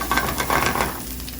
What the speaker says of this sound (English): I'm gonna put the onions and peppers in there.